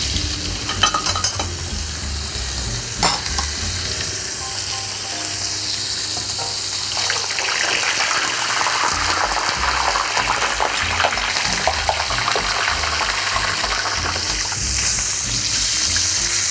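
Frozen potatoes fry in hot oil, a steady dense sizzle with crackling spatter that grows busier partway through, loud and close with no voices.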